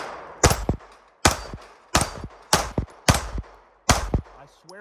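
Six sharp pistol shots from a S&W Equalizer crack at roughly even intervals, each followed by a short ringing tail from the steel plate rack being hit, loud and close outdoors.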